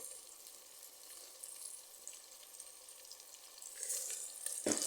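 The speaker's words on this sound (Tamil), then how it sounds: "ஈரலை போட்டு அதோட உப்பு போட்டுக்கலாம்" Chicken liver cooks with salt in a pan for a soup: a soft, steady sizzle with faint crackle that grows slightly louder toward the end and finishes with a brief clatter.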